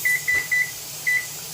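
A kitchen timer on a stove gives four short, clear electronic beeps, three in quick succession and one after a pause, loud and close.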